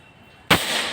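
A Falcon Pro Ultra Max PCP air rifle fires a single slug: one sharp, loud crack after a quiet moment, followed by a short lingering ring.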